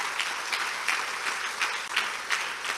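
A church congregation applauds during a sermon, a steady patter of many hands with soft pulsing swells, heard at a distance without speech.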